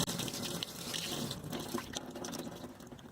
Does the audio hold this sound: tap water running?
yes